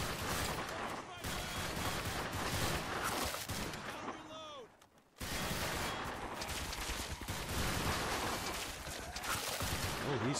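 Dense, continuous gunfire and explosions in a Garry's Mod battle between SWAT and demonic monsters, loud and nearly unbroken, with a brief lull near the middle.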